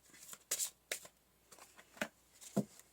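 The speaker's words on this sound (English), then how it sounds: "So, pulling some oracle cards to start." Oracle cards being shuffled and pulled from a deck, a few quick papery riffles and flicks spread over a couple of seconds, close and fairly quiet with no talking.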